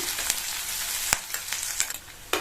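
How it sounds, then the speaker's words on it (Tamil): Sliced onion and curry leaves frying in hot oil for a Tamil potato side dish, a steady close sizzle broken by a few sharp scrapes and clicks of stirring, with no voices. "அடுத்து ஒரு மீடியம் சைஸ் பெரிய வெங்காயத்தை கட் பண்ணி சேர்த்துக்கலாம். கூடவே கருவேப்பிலை."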